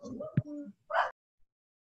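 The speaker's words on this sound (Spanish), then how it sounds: "¿Escucha un perrito?" A small dog yips once or twice, briefly and fairly faint, in the background of an online algebra lecture, with people talking over it.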